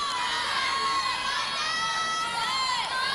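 A crowd of gymnastics teammates cheers and shouts steadily for a college gymnast at an NCAA meet in a Kentucky arena, the high excited voices sustained and close throughout.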